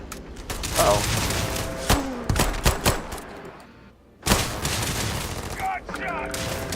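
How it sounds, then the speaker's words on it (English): Gunfire in a video game crackles in rapid bursts and single sharp shots, loud and close, with a brief lull midway before the shooting resumes, and voices appear among the shots. "Gunshot!"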